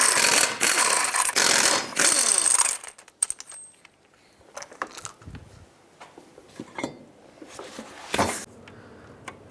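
Metallic clinks and rattles while a 21mm socket removes the six lug nuts from a wheel of a 2003-09 Toyota 4Runner, a few dense bursts at first followed by sparse scattered clicks.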